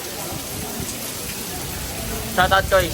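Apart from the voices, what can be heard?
heavy rain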